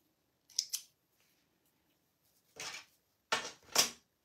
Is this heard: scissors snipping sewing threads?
yes